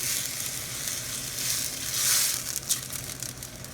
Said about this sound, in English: On a real hot pan, just keep stirring it so it doesn't scorch.